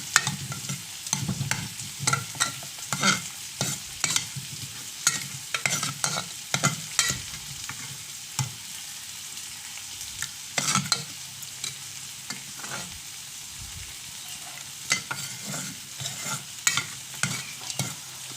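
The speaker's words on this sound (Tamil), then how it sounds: "பருப்பு நல்லா மிக்ஸ் பண்ணிக்கிறேன்" A spoon stirs and mixes cooked, salted toor dal (lentils) in a pot for idli sambar, with repeated soft scraping and sloshing strokes at a steady, close rhythm and no voices.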